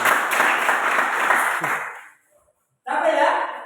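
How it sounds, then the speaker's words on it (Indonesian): An audience at a teacher-training class session at Universitas Ganesha claps in a dense burst that fades out, then starts again briefly after a short silence, fairly loud and close. "Ya, tepuk tangan dulu."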